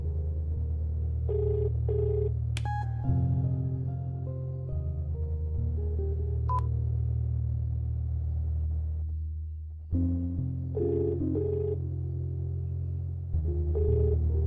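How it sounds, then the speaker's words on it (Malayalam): An unanswered phone rings in a scene from a Malayalam dubbed film, a repeating melodic ringtone with sustained tones pausing briefly between phrases and carrying on alone. "എത്ര പ്രാവശ്യം വിളിച്ചാലും ഫോൺ എടുക്കില്ല"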